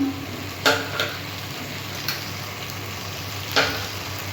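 A spice masala of turmeric, Kashmiri chilli and red chilli powder fries in a pan with a steady low sizzle, broken by a few soft spoon taps and scrapes.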